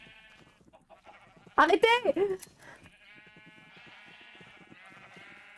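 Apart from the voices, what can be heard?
sheep bleating in Minecraft video game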